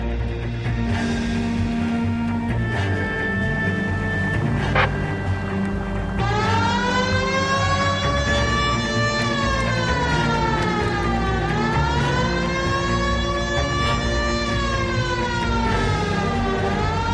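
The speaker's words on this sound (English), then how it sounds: "Hit the siren." A loud electronic police car siren in the video game L.A. Noire wails continuously, its pitch sweeping up and down in long cycles, with a steady engine-like drone underneath.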